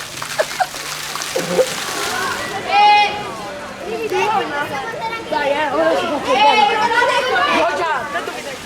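Water squirts and splashes at an outdoor water-play fortress at a miniature theme park in Italy, busy with chattering and children's voices, and someone talks loudly over the sloshing throughout.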